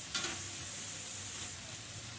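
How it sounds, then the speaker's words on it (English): Andouille sausage sautéing in a pan for a bean soup, a faint, steady sizzle with a brief stirring scrape near the start, quiet and close, no talk. "I'm going to let that saute up for a little while."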